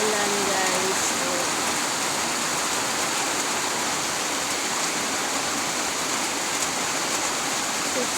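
Heavy rain pours in a steady, dense roar close by, unbroken for the whole stretch with no letup.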